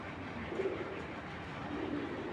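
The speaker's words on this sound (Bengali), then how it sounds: "সব কবুতরটা অনেক ছটফট করতেছে" Soft low coos of restless racing pigeons against a steady noisy background, faint and somewhat distant.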